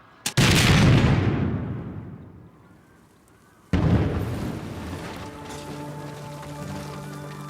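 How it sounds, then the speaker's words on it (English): Two cannon shots from a period battle scene, each a loud, close boom with a long rolling decay, the second followed by lingering rumble and tonal background music. "Fire the second gun and reload!"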